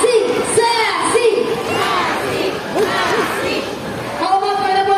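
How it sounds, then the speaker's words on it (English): A crowd of girls chanting and cheering for the parrot Sassy at an all-star bird show at Manila Ocean Park, loud rhythmic repeated shouts in unison from many voices close by. "Come on girls, let's cheer for Sassy."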